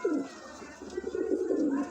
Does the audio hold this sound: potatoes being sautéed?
no